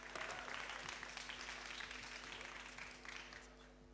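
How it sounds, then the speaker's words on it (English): Conference audience applause welcoming a presenter to the stage at a Jack Daniel's industry talk, a full room clapping steadily before tapering slightly near the end, over a low steady hum. "Big round of applause for Michelle, please."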